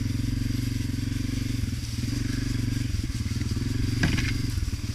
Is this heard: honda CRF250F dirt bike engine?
yes